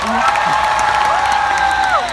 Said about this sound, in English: Run, run, cheer her on, cheer her on.